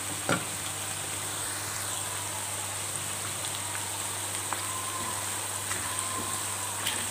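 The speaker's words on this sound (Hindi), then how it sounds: "इसको हमने चमचे से अच्छे से मिक्स कर दिया है।" Carrot halwa with eggs mixed in cooks in a pan, a soft continuous sizzle and bubbling with a few faint scrapes and taps of a ladle, steady and fairly quiet throughout.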